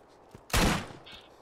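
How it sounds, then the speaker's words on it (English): An Eridian alien weapon fired in Borderlands, one loud, sharp burst of energy gunfire lasting about a quarter second, followed by a faint tonal whine as it fades. "Shot you in the back with my Iridian weapon."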